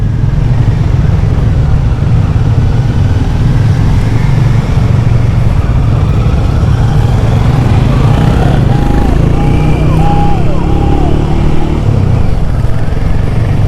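Hero Mavrick 440, a 440cc motorcycle, cruising on a highway at early morning, its engine drone and wind noise steady and loud throughout, with a rising whine near the end.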